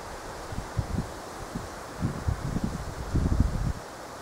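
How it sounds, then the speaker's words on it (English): Wind blows outdoors, a steady soft rushing with low buffeting gusts that swell toward the end, heard alone. "What a wind."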